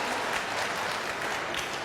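Dense, steady applause from a political debate audience during a New Jersey Senate debate, continuous crowd clapping throughout with no break.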